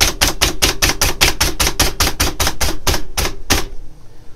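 A knife dices a ghost pepper on a cutting board in a kitchen, striking fast, even and loud for about fifteen chops before it stops abruptly, with no talking.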